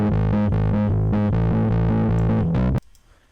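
A heavily distorted guitar plays a rhythmic chugging riff with a harsh, saturated fuzz, loud throughout, then cuts off abruptly into near silence.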